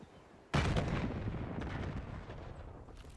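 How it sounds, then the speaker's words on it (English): A frag grenade in Black Ops 6 explodes suddenly with a loud, booming blast, and a long rumbling tail that slowly fades. "Frag throw."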